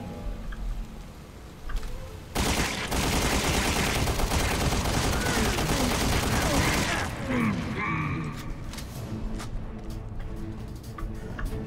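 Rapid gunfire in Resident Evil Revelations 2 as a player shoots at a blister on a mutated creature, a dense sustained burst of shots for several seconds, fading into softer clatter and game ambience.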